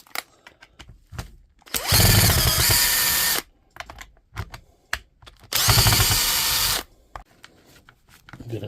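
A Hikoki electric drill runs in two loud bursts of about one and a half seconds each, separated by clicks and handling noises from a workbench.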